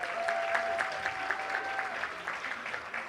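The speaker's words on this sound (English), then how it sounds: "Let's give her another round of applause." Soft, distant applause from an audience at an awards broadcast follows a singer's performance. The clapping is steady and fairly faint, with a thin sustained tone beneath it.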